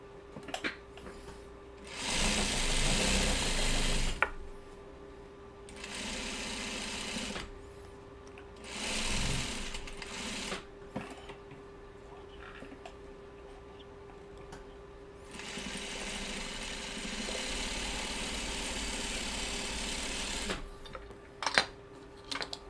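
A sewing machine stitching a seam, heard as several loud bursts of rapid mechanical whirring and clatter of varying length, separated by quieter pauses with small handling clicks and faint background hum.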